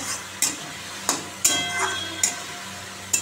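Spices with nigella seeds and green chilli being stir-fried in a home kitchen pan, with sharp spatula scrapes and clinks roughly every half second over a low, steady sizzle, close by.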